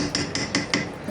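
Khichuri being stirred in a cooking pot, heard as four evenly spaced metallic clanks ringing out one after another, fairly close, with no talking.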